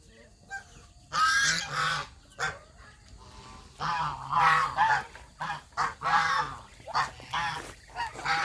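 Several geese honk repeatedly in loud, raspy bursts, close by, with short pauses between calls.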